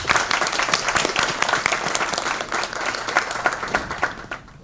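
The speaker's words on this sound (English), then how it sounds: "Let's give our panelists another warm round of applause." An event audience gives panelists a warm round of applause, a full, lively clapping with a few brighter individual claps, close and loud, tapering off at the end, with no speech.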